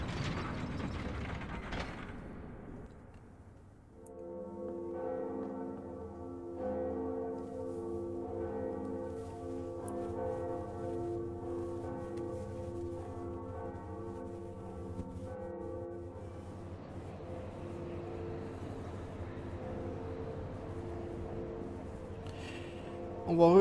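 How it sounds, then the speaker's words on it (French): The second bell in the video game Dark Souls is rung, a ratcheting mechanical clanking followed by a sustained resonant bell tone with layered overtones, moderately loud, with a voice talking over it. "Donc voilà la seconde cloche. Et on va l'utiliser."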